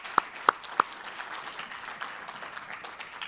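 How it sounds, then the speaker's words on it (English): Audience applause at a conference closing keynote, a few sharp individual claps up front followed by a soft, sustained patter of clapping from a moderately distant crowd. "Round of applause for Alice."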